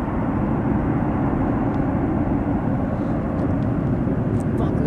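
An airplane comes in to land, a loud broadband jet roar that sounds louder than a Boeing 777, steady and close throughout.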